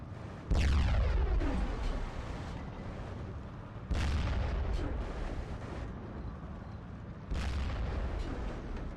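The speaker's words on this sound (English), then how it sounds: "I love watching these 88s fire." 88mm flak guns fire in the Steel Division 2 video game, three loud booming blasts a few seconds apart, each with a long rumbling tail.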